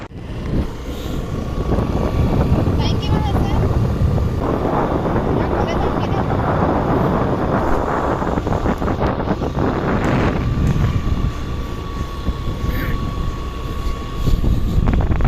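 Strong wind buffets the microphone in loud, rumbling gusts, continuous throughout, with a faint engine hum underneath, on the way to Nimati Ghat.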